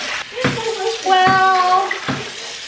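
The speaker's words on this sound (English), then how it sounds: "We are going to be getting 13 cups of water into a big stock pot here." Tap water runs into a big stock pot for canning lemon dill pickles, splashing and rising in pitch as the pot fills, with brief pauses between pours.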